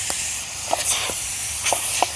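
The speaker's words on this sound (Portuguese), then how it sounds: "Agora deixar a pressão aí sair nela." Steam hisses steadily out of a pressure cooker of beans over a campfire after its valve is pulled, a constant close rush of air broken by a few small clicks.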